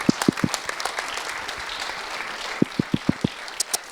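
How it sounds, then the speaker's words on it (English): Arsenal supporters applaud player David Luiz at a fan event, with a continuous wash of crowd clapping and a few sharp, close claps standing out near the start and toward the end. "a round of applause for number 23, David Luiz"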